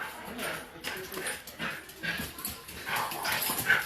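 Stan the dog whimpering in a rescue setting, soft high whines and yips repeating irregularly over a few seconds, close by, with light talk and handling noise mixed in.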